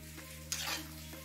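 Omena, small silver cyprinid fish, deep frying in hot oil, a brief burst of bubbling sizzle and stirring over a low steady hum, faint and close.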